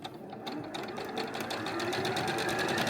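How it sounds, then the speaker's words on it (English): A sewing machine stitches without a foot pedal, giving a fast, steady mechanical rattle of repeated needle strokes that builds slightly in loudness over a few seconds. "This machine can sew without a foot."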